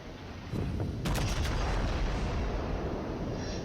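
Battleship artillery salvo in World of Warships, a Montana firing its guns: a heavy, sustained booming roar that swells at about half a second and stays loud, with sharp crackling bursts layered on top, no talking.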